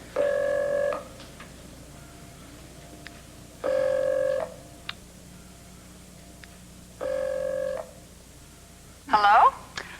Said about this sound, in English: Come on, somebody answer the phone.